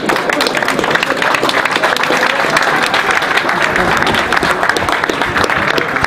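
Crowd applause after a basketball game, loud and sustained, dense clapping filling the whole stretch with a faint crowd murmur mixed in.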